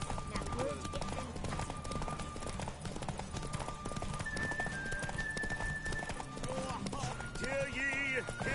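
Roach, a horse in The Witcher 3, trots with rhythmic clip-clopping hooves and occasional whinnies, heard alongside game music and a speaking voice.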